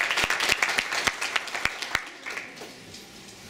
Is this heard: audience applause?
yes